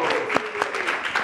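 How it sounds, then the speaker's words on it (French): Audience clapping for a student at a school event, a brief burst of dense hand claps with a few sharper accents, fairly close and steady throughout. "J'aimerais qu'on applaudisse pour Loïc."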